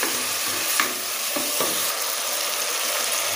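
Egg biryani masala is sautéed in a pan, with continuous frying sizzle and a few scraping stirs, close and fairly loud, no talking.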